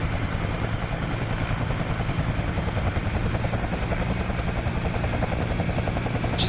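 Bell 222 helicopter rotor spinning up in a flight simulator game, a steady whining turbine drone with rapid rhythmic blade chop, loud and continuous, with no talking over it.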